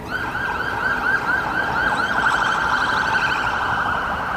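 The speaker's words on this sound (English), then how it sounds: "There's a siren here. This is the first." A wailing police siren rises and falls steadily, loud and continuous, over a background of night street noise in Port Credit, with police cars going by.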